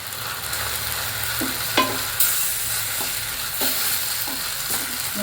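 Kashmiri chilli powder being stirred into tomato chutney frying in a pan: a continuous close sizzle with a handful of spoon scrapes and clinks, no voices.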